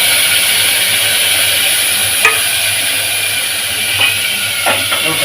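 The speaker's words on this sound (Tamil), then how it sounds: "கொஞ்சம் நல்லா ஃப்ரை பண்ணிப்போம் இதெல்லாம் நல்லா தக்காளி இதில் இந்த நெய் வாசனையோட நல்லா வதங்கட்டும்" Tomatoes sauté in ghee with cumin, curry leaves and a chili in a pan, a loud, steady, hissing sizzle with a few faint spoon scrapes and no talking.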